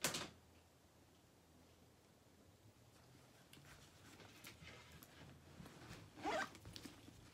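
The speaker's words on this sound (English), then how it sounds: "So there's the zipper pocket." A zipper on a purse pocket is pulled in a quick rasping burst, then again in a longer, louder run a few seconds later, close up and quiet, with no talk.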